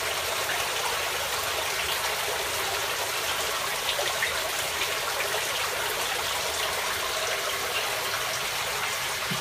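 Water from an aquaponics side jet pours steadily into a venturi, making a continuous hissing, splashing flow at even volume with no break.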